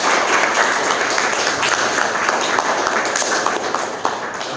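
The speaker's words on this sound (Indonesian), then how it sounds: "Saya ingin kita aplaus dulu untuk kita semuanya." A seminar audience bursts into sustained applause, dense and loud clapping from many hands filling the room evenly from start to finish.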